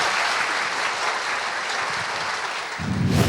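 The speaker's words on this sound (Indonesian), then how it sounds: "Kita berikan sekali lagi aplaus" A studio audience at an Indonesian talk show claps steadily for several seconds, a dense, even wash of applause that swells near the end.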